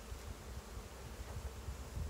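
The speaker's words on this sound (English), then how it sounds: "See the bees?" Bees buzz around a hive infested with wax moth larvae, a close, continuous insect drone with soft rustling and no voices.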